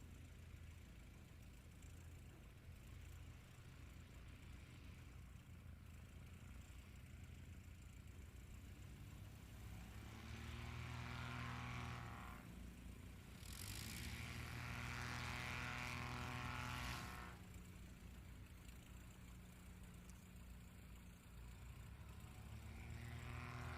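A 2022 Patriot Aircraft Super Patriot flying at a STOL competition practice at HXF Airport in Hartford, Wisconsin, its engine a continuous drone that swells loudly twice as it revs or passes, then settles back to a steady distant hum.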